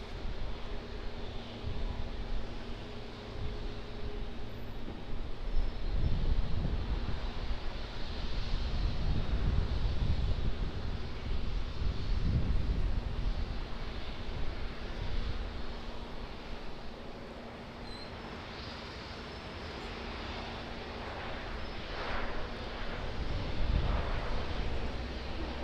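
An Airbus A350-900 airliner at Auckland Airport rumbles at a distance, a steady low roar with swelling surges, partly buffeted by wind noise across the microphone.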